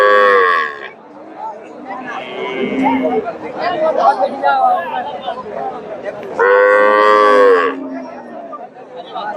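A cow lets out two long, loud moos, one at the start and one later, with people chattering in between at the Dakumara cattle market in Bogura, Bangladesh.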